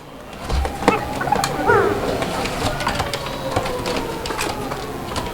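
Koka pigeons cooing, low repeated coos from a nearby pair amid other birds, with faint background voices and rustling.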